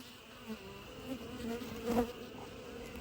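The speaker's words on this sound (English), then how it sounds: "This is another frame full of bees." Honey bees buzz steadily up close on a hive frame, a soft droning hum that swells briefly now and then.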